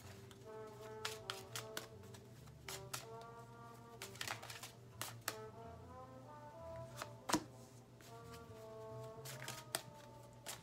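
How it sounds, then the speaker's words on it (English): Tarot cards shuffled and drawn during a reading: soft, irregular riffling flicks and snaps, fairly close and quiet, with a few sharper card slaps among steady papery rustles and no talk. "I'm going to go ahead and pull out four cards"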